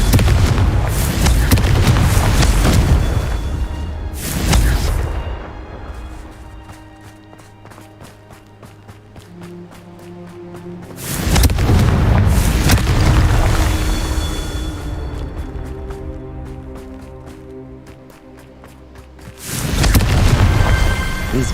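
Confringo spell explosions in the Hogwarts Legacy video game, three loud booming blasts spaced several seconds apart, each fading into a rumbling tail with lighter rattling debris in the quieter gaps.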